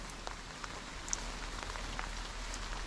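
Rain falling on surfaces outdoors at night beside a mountain hut, a steady soft hiss with scattered nearby drop patters and occasional sharper taps, no voices.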